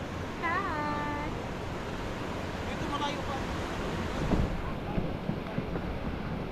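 Surf washes steadily onto the beach at Bucana under constant wind rumble against the microphone, with a voice speaking briefly near the start.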